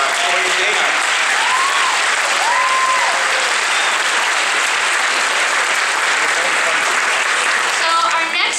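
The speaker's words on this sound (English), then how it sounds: "Let's give it a rough round of applause for Hoye and Dana." An audience applauds performers Hoye and Dana at a stage show: sustained, loud clapping from many hands fills the whole stretch, with faint voices and a few cheers rising through it.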